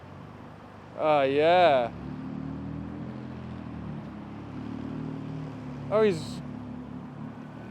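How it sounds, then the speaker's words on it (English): A JDM car on a street in Japan gives two quick throttle blips, about five seconds apart, each a throaty rising-and-falling exhaust rev over a steady idle. Onlookers talk nearby. "he's just giving it a little throttle pedal and it sounds quite good. Quite throaty"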